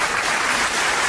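A short burst of applause used as a right-answer sound effect, dense steady clapping at full volume for about a second.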